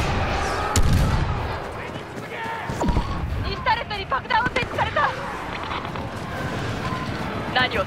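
A gun turret fires in Star Wars Battlefront 2, loosing sharp repeated bursts over a busy battle din while voices talk throughout.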